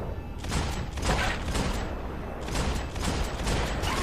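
Pistol gunfire in the video game Max Payne 3, a string of sharp shots in quick bursts with short pauses between, loud and close over a busy game backdrop.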